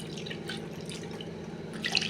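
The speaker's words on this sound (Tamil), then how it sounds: "இப்போ ஃபஸ்ட் டைம் நான் தண்ணி ஊற்றுறேன்" Water trickles and drips softly while being poured over homemade paneer to rinse it, a faint, steady liquid sound with a slightly louder splash near the end.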